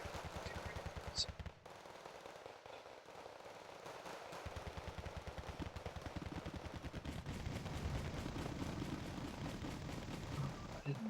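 Wargame Red Dragon, a real-time strategy battle, fills the stretch with rapid bursts of machine-gun and rifle fire, moderately distant and continuous, getting denser toward the end under a faint game soundscape.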